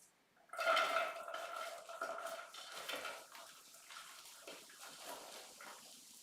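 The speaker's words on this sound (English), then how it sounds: "give that a really good stir" Cabbage stirred in a pot with a metal utensil: a clanking scrape as it starts, then a continuous soft rustling, scraping churn, close and fairly quiet.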